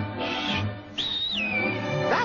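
A single clear whistle rises, holds, then glides downward, showing how to whistle for help, with a soft background hum and a brief chirpy flourish at the end.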